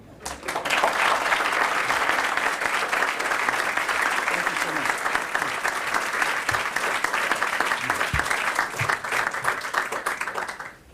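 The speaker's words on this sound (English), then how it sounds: "our applause has already given Dr. Rhoads some idea of our appreciation" Sustained audience applause at a lecture on sex differences, dense and steady clapping filling the room for about ten seconds before tapering at the end, with some voices mixed in.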